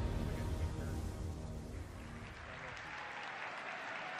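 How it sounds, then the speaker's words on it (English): Soft, distant applause from an audience filling a large room at a Diablo game event, a thin, even patter of clapping that slowly fades. "listen how quiet that applause is"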